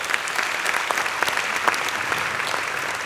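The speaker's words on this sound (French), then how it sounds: "on peut les applaudir elles aussi" Audience at a business awards evening applauding, a dense steady clapping that stays loud and continuous throughout.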